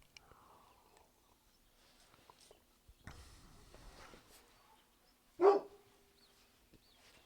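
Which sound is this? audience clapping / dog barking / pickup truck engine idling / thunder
dog barking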